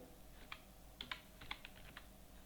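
Keys on a computer keyboard click in small, quick bursts, with several sharp, quiet keystrokes spread over a couple of seconds. No one speaks.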